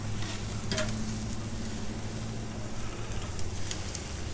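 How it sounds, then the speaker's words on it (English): Ribeye steaks sear on a Kamado Joe Classic II grill with a steady, even sizzle and crackle over a low constant hum, with a few sharper pops. "So I'm going to go ahead and flip these over. It looks like they're getting seared pretty good."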